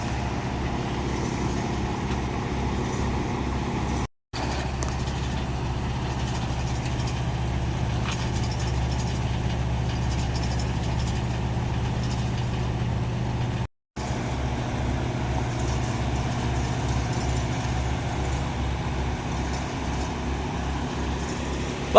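Isuzu trailer tanker truck engine idling, a steady low diesel rumble with an even pulsing beat, heard close for the whole stretch and broken by two brief dropouts, with no talk.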